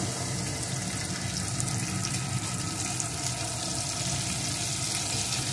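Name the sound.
frying garlic and green chilli paste in a pan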